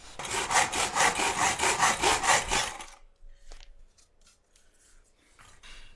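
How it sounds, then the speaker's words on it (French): A hand saw rasps through a baseboard cutting a mitre: about a dozen quick, regular back-and-forth strokes for three seconds, then it stops, leaving quiet handling sounds. "vous devez scier les plinthes en onglets"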